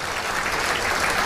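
Applause from the audience at a comedy debate show, honouring a Tamil woman who topped the national chartered accountancy exam; steady, dense clapping fills the short stretch with no voices over it.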